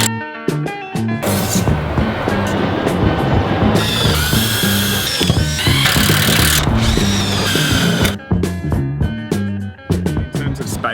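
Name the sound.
power drill driving metal screws into wall panel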